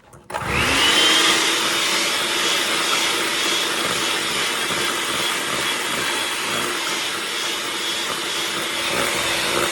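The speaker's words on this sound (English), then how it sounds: "So I'm going to stir this sugar up in there, but I'm not going to keep beating on it because I don't want butter." Cream and sugar beaten into whipped topping with an electric mixer: a loud, steady whirring motor kicks in after a brief moment and runs continuously without pause, with no talking.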